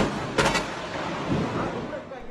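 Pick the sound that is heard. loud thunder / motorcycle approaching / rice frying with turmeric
loud thunder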